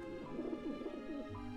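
Soft pigeon cooing from birds gathered by a dish vent in the Grim Fandango game, a short warbling burst over steady low ambience with no talking.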